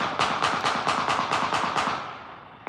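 A Fourth of July firework goes off in a rapid, evenly spaced string of about nine sharp, loud reports that sound like gunfire, then fades, with one last small pop.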